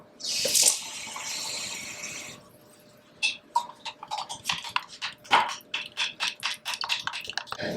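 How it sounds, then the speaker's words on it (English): Water poured from a cup into a pan during meal prep, a steady splashing pour for about two seconds, followed by softer clinks and handling sounds of kitchenware nearby. "Now I'm going to put a little bit of water in this,"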